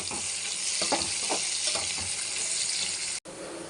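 Potatoes stirred and frying in a pan of hot oil for a potato and spinach fry, giving a steady close sizzle with a few soft stirring scrapes, cutting out abruptly near the end.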